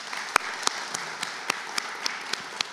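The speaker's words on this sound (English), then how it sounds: "Let's give the scouts of Troop 99 a big round of applause." An audience applauds the scouts of Troop 99 at a council volunteer recognition event, a steady patter of clapping with a few sharper individual claps standing out, fairly brief and moderately loud.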